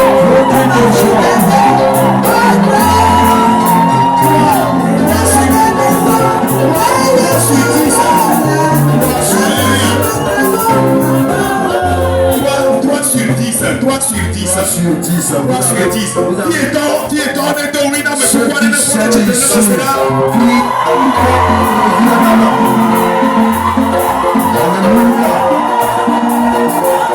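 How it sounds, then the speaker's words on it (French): At a fasting and prayer service, a congregation shouts cries of joy, loud and sustained throughout, with crowd whoops and cheering over rhythmic music and voices. "Ceux qui sont ici, un cri de joie."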